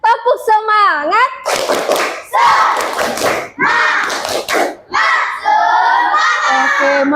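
A classroom of children led by a female Islamic studies teacher breaks into a loud, rhythmic spirit clap, with bursts of sharp claps mixed with shouted chanting voices close by.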